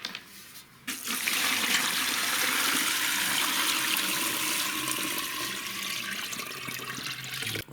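Water pouring steadily into a cooking pot for a tripe roll, a loud continuous rushing splash that starts abruptly after a brief pause and runs several seconds alone.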